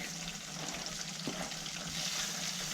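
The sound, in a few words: sand gobies frying in butter with wild garlic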